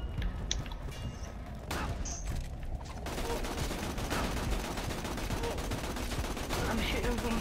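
Gunfire in the Borderlands video game: a few scattered shots at first, then a dense, continuous barrage of rapid automatic fire and mechanical clatter that stays loud and unbroken to the end.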